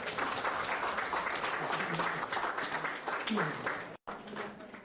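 An audience at a conference on Peruvian criminal procedure applauds in a dense, sustained wash of clapping, with voices speaking over it and a brief gap near the end.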